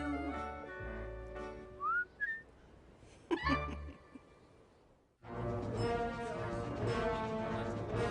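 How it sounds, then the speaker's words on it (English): A person whistles a bright, sliding tune in the opening seconds, brief clear notes over a quiet background, before orchestral music swells up and carries on to the end. "you'll hear me whistling for you"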